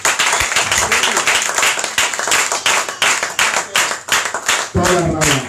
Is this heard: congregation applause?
yes